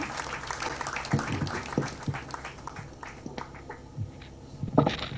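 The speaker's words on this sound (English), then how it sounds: "Let's clap for them again as they sit down." An audience at a blue economy innovation and investment summit claps as start-up presenters sit down, a scattered, moderately loud patter of hands that thins and swells over several seconds.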